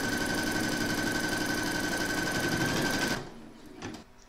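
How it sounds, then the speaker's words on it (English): An embroidery machine runs a satin stitch placement outline for a cross appliqué, giving a loud, steady, fast mechanical whir with a high whine for about three seconds before it stops and a few faint clicks follow. "Load your thread for the satin stitch into your machine, and then you're going to stitch round number 1"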